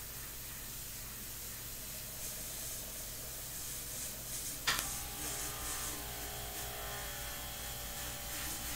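An airbrush sprays paint in a steady, even hiss while a portrait is being painted, with one short sharp click partway through and no voices.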